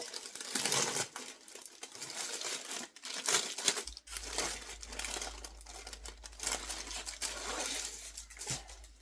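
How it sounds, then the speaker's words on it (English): Crinkly plastic packaging of a cross-stitch kit being handled close up, with bursts of rustling and crumpling that come and go, loud and irregular, no voices. "Excuse the rustling for a second."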